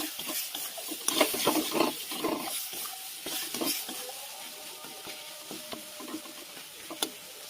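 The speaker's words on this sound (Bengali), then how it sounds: "এবার মশলাগুলো ভালো করে কষাবো, কষিয়ে আমি ছোলা সিদ্ধটা দিয়ে দেবো" Spices sautéing in a pan for chickpea ghugni make a close sizzle broken by repeated scraping and stirring strokes, louder early and easing toward the end, with one sharp knock near the close.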